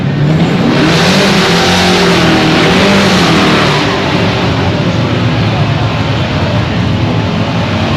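Race cars roar around a dirt track in Milton, Kentucky, engines revving loud and continuous throughout, swelling near the start before settling into a steady, slightly more distant drone.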